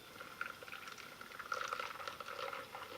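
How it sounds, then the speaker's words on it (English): A second batch of almond and water mix is poured into a blender, a faint, bubbling liquid gurgle that runs steadily for a few seconds with soft splashes. "and we're going to pour that in"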